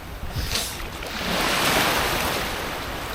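Steady rush of ocean surf washing onto a beach on Palawan, Philippines, with wind buffeting the microphone; no voices.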